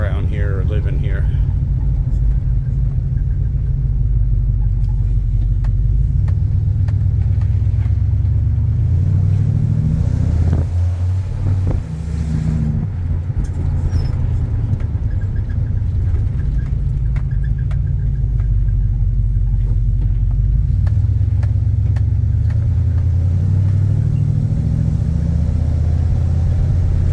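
A 1992 Dodge W250 truck engine hums with a steady, heavy low rumble throughout a test drive in a neighborhood, loud and continuous under someone talking.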